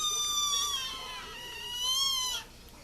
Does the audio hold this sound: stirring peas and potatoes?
no